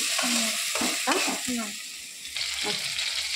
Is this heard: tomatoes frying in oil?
yes